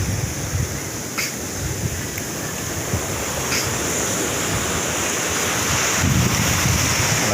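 Ocean surf rolls in steadily at Pantai Sasak beach in Nagari Sasak, West Pasaman, a continuous broadband wash with wind buffeting the microphone and a swell of louder breaking surf near the end.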